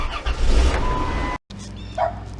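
A Dodge Caravan engine idles with the air conditioning running, giving a steady, loud rumble that cuts out briefly. It resumes quieter, with a short tonal chirp near the end.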